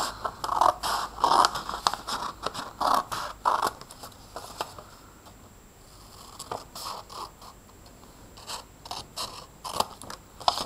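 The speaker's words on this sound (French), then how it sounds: "Tranquillement, on va découper toutes les cartes des nombres." Scissors cut out small paper number cards with rapid, crisp snips in clustered bursts. A quieter pause falls in the middle before the cutting resumes, all close by and fairly soft.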